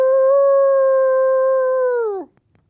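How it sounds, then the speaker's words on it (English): A single long howl, dog-like in character, holds one clear sustained pitch for about two seconds, then slides down and breaks off, loud and close, followed by silence. "Let's howl with her too for the count of 3."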